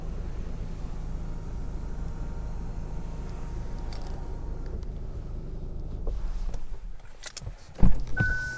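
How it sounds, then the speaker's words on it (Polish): A faint electric roller blind motor whirs steadily inside a quiet Kia ProCeed, then stops, followed by a sharp click. "I roleta również elektryczna."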